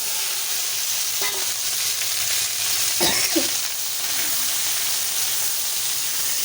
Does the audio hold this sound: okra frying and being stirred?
yes